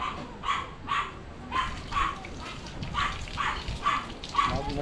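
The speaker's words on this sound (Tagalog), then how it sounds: "Ingay ng aso ah." A dog barks repeatedly in a steady series of sharp barks, moderately close, over a low background rumble.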